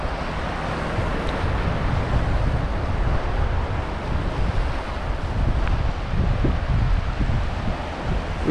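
Steady wind and rolling surf wash over the shore at Botany Bay beach on Edisto Island, a broad, continuous roar with low rumbling buffeting close to the microphone and no voices.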